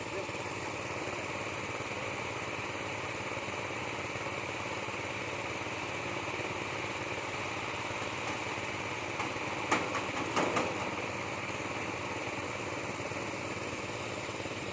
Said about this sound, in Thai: เพื่นได้ใส่เครื่อง สูบน้ำสูบใหญ่นะคะเนาะ